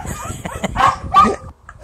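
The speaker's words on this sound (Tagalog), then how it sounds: "Nakikipag-away ako sa palakasan ng boses sa mga aso dito." Several dogs bark and yip in a garden where potted yellow plumeria grows, the short loud barks clustering in two bursts amid a busy outdoor background with some voice mixed in.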